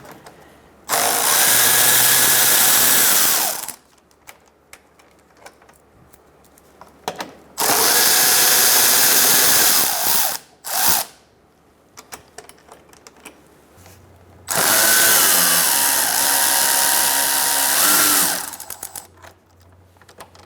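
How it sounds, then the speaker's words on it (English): Three bursts of a power tool driving a 10mm socket to remove two bolts on the rear lower engine splash shield of a 2004-2009 Mazda 3, each whirring run lasting about three seconds with quiet gaps and a short blip between. "now we're going to use a 10mm socket to remove these two bolts"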